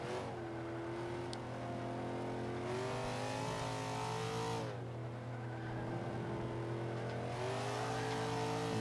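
Nissan Silvia Spec R engine in the Forza 5 racing game revving high and climbing through gears, a continuous strong whine with pitch rising and dropping at each shift, no voices.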